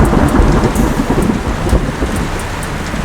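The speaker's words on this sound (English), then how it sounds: "It was a cold, hard rain" Heavy, cold rain pours down steadily at close range, a dense hiss of drops hitting surfaces with a few brighter splatters, loud and unbroken for a few seconds.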